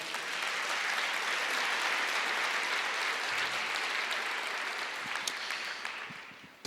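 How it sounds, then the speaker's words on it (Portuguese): Church congregation applauding steadily for several seconds, a dense, even wash of clapping that fades out at the end. "Você pode aplaudir o Senhor?"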